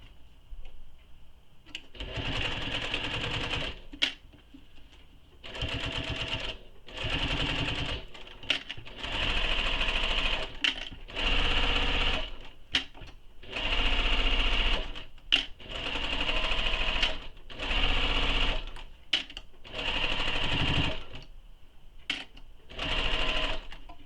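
A domestic sewing machine stitches a second row on a handmade plush toy in repeated bursts, about a dozen short runs of rapid whirring separated by brief pauses, close and clear with no talking.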